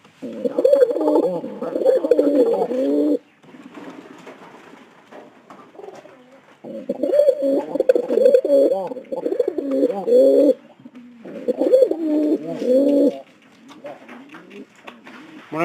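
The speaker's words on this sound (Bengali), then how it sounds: "মনে হয় কিন্তু পায়রা ডাকটা ভালো আছে।" Pigeons in a loft coo in repeated low rolling phrases, close and fairly loud, with brief pauses between bouts.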